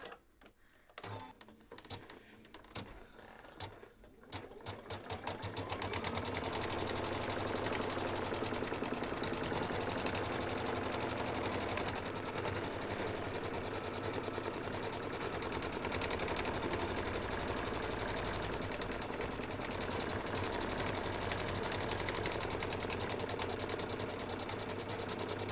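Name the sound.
embroidery sewing machine stitching mug rug outline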